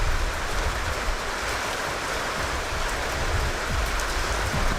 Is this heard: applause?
no